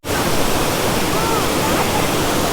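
Kaigal waterfall pours steadily in a continuous, loud broadband rush of falling water, close and unbroken throughout.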